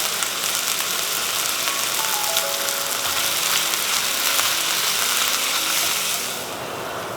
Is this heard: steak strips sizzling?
yes